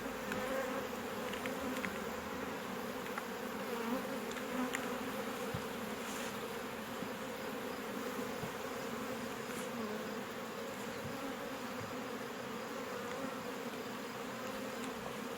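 Honeybees buzz in a dense, steady drone while a beehive is moved frame by frame during a natural varroa treatment, the hum close and unbroken throughout with no talking.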